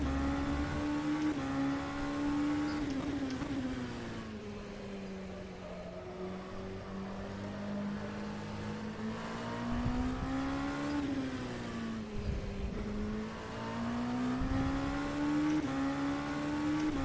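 Endurance race car engine in rFactor 2, a steady sustained drone with pitch rising and falling through gear changes and corners, loud and continuous with no talk.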